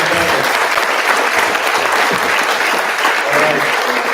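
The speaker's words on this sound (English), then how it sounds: "Let's give a round of applause for our winners and our competitors." A crowd applauds winners and competitors at the close of the 2024 Groton Connecticut Maritime Welding event, steady and fairly loud clapping with some voices mixed in.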